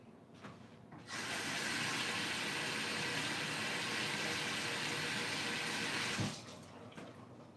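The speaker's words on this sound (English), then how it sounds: "so I'm just going to wash these off with warm water." Warm tap water runs in a steady, even rush for about five seconds while meatballs are rinsed under it in a home kitchen, then shuts off.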